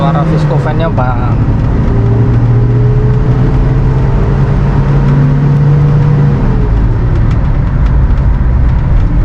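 Engine and viscous cooling fan of a Toyota Kijang Krista automatic with a petrol engine, a steady loud drone with a low whirring hum that holds throughout.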